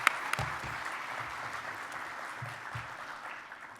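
A breakfast audience at an awards event gives a round of applause for the conference sponsors, moderate clapping that fades slightly over a few seconds, heard at some distance.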